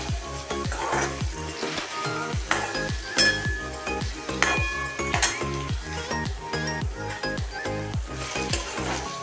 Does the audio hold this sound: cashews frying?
yes